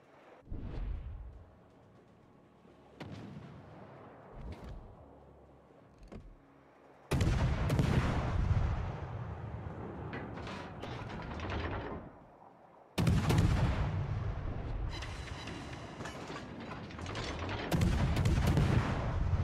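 Naval gunfire in World of Warships, heavy booming salvos and rumbling blasts in sustained loud bursts, with quieter scattered shots early on and two dense, long barrages later.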